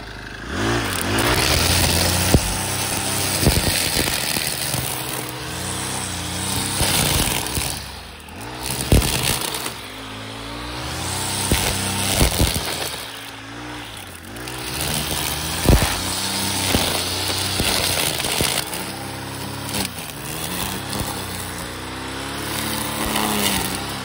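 An engine-powered grass cutter strapped to the operator's back with a string trimmer line runs through a long stretch, its motor droning loud and near and revving up and down repeatedly as it cuts grass, with no talking.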